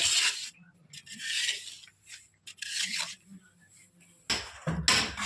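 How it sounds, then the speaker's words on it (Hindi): A cement manhole surface is rubbed smooth by hand in bursts of coarse scraping that stop and start with short gaps between strokes, close and fairly loud. "देखिए इस तरह चिकना कर देंगे 4 साइड।"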